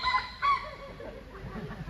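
A voice imitating a rooster's crow during a lively Islamic sermon for Isra Mi'raj: one short, clipped cock-a-doodle-doo call, fairly close and clear, with a second brief rise, then fading into quiet room noise.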